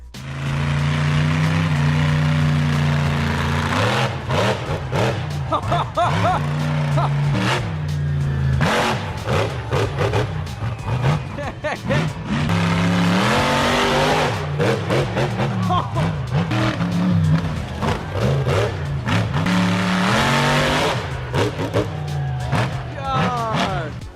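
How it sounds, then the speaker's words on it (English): A monster truck engine revs and roars repeatedly while crushing a police car in a backyard, loud surging engine sound with rising and falling pitch, mixed with a voice talking throughout. "it looks incredibly surreal to watch this monster truck making mincemeat of a cop car in a backyard"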